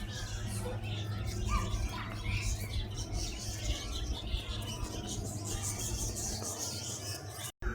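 Small caged birds like lovebirds at a children's park, chirping and tweeting continuously in a busy chorus, with someone talking over them throughout.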